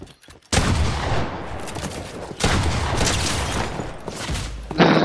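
Video game gunfire from a pump shotgun and an SMG, a loud sustained barrage of rapid shots in two long bursts, followed by a final heavy blast.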